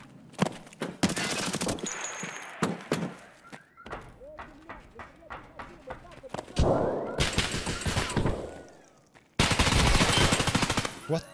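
Loud bursts of rapid automatic gunfire ring out in the Escape from Tarkov video game, several sustained volleys separated by short pauses and scattered single shots, with a player talking over the action.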